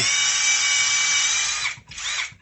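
A compact cordless drill/driver whirs steadily at low speed with high torque, a loud continuous motor whine that dips briefly near the end before resuming.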